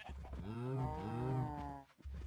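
A single long cow moo from Minecraft, steady and clear across most of the moment, with no talk over it.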